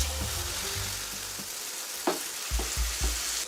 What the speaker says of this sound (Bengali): এবার আমি এখান থেকে 1 চামচ ব্যাটার দিয়ে দিচ্ছি।